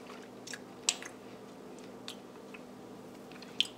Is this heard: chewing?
yes